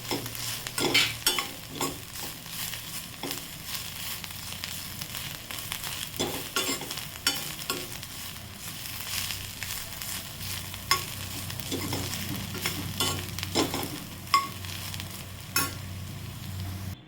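Sliced bitter gourd (karela) fries steadily in a pan, a continuous sizzle broken by repeated scraping stirs of a spatula at an irregular rhythm, close and fairly loud throughout.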